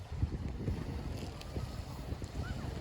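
Wind gusting at a bay in a forest, a rumbling, buffeting rush against the microphone, fairly quiet and continuous with irregular low thumps throughout and no clear talking.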